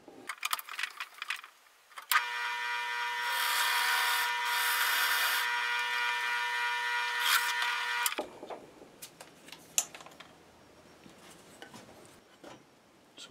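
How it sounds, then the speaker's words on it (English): A power drill with a 1-inch Forstner bit bores into wood, whining steadily for about six seconds between quieter workshop handling clatter and taps before and after. "using a 1-inch Forstner bit, I'm going to drill out that hole."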